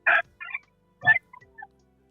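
A chicken in the background gives a short series of crowing, gobbling bursts: two louder calls with softer trailing notes, fairly close and clear against silence.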